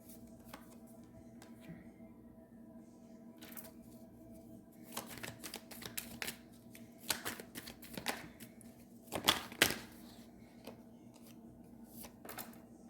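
Tarot cards being shuffled and drawn by hand, a run of soft papery riffles and slaps clustering in the middle with quieter handling before and after, close and fairly faint.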